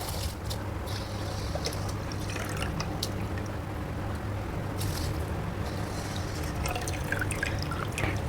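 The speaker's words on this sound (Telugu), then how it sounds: "ఇప్పుడు ఏం చేద్దామంటే బియ్యం వేసుకుందాం మంచిగా" Rice being tipped into boiling water for Andhra-style country chicken pulao, with a continuous bubbling simmer and faint drips and patters of grains falling into the pot.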